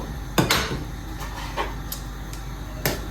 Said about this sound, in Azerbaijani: Mən kəfimi belə deşikli qaşıqla eləyirəm